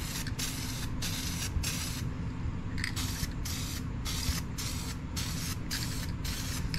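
Gold spray paint hisses from a can onto marble run parts in about a dozen steady, close bursts, each roughly half a second long with short gaps between them, over a low constant background hum.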